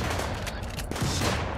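Gunfire in the colony-building video game Rimworld, a dense burst of sharp overlapping shots filling the whole moment, loud and close with no talking over it.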